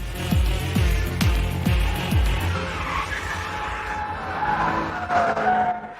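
A 626bhp Range Rover Sport SV, a tall car of over 2.5 tons, drifts sideways with loud tire squeal and skidding. Several quick chirps come in a burst early on, then a long steady screech continues under engine roar.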